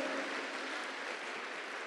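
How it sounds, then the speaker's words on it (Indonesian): A crowd applauds steadily, a dense patter of clapping filling the whole moment. "Tepuk tangan dulu dong"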